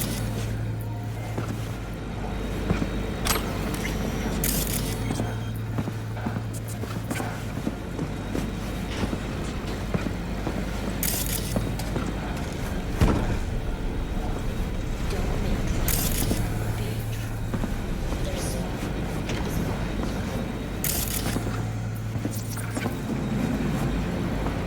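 Car ride in Cyberpunk 2077: a steady engine and road rumble runs throughout, with periodic brighter swells and clunks, while voices talk over it.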